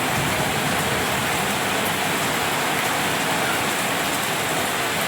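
Steady rain falls outdoors during work on an all-new Daihatsu Terios type X, a dense, even hiss of drops on surfaces filling the whole stretch with no voices.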